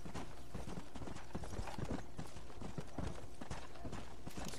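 A horse gallops in Red Dead, its hooves pounding in a fast, continuous clip-clop rhythm that stays loud and dense over rumbling game noise throughout.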